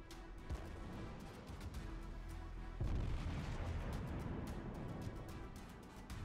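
A naval gun salvo rumbles in World of Warships, heard as a muffled, fairly faint series of booms and pops with a deeper thump midway.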